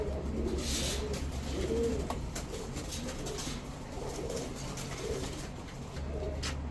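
A male and female pair of Cobra Lal Patti pigeons, currently molting, coo in soft, repeated low throaty phrases close by, over a steady background hum and faint chirps.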